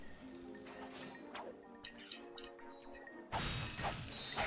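In the Ratchet and Clank video game, a wrench smashes breakable objects: mechanical clanks and chimes ring out, then a loud crashing burst near the end, all crisp and close with no talking.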